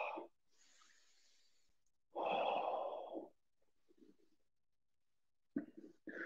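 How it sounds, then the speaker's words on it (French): Deep breaths in and out during a live Pilates exercise class, two distinct airy exhalations separated by quiet, with a faint soft breath in between and a brief sharper sound at the end. "J'inspire. J'expire. Le mouvement est fluide."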